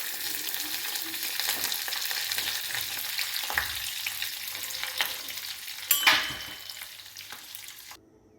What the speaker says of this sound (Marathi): लाल मिरची, कढीपत्ता आणि थोडी उडीद डाळ टाकून फोडणी देऊ या चटणीला.